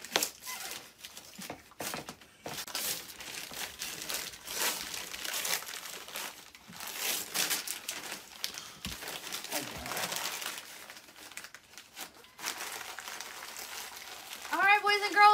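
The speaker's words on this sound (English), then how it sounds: "We're gonna unwrap the second layer." Wrapping paper is crinkled and torn as a gift's second layer comes off, giving irregular bursts of rustling and crumpling, with a person talking intermittently over it.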